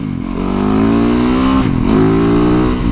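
A Yamaha YZ450FX dirt bike pulls hard off the line, its loud, close engine note rising steadily through a brief dip before climbing again in a continuous roar.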